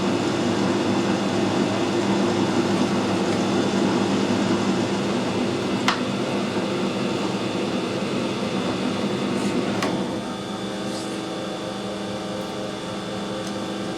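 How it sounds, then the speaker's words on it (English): Steady mechanical whir of a lathe screw-cutting a thread with an angled tool on a Sentinel part, a continuous even drone with a brief sharp tick midway and a slight drop in level near the end. "Cutting a nice thread."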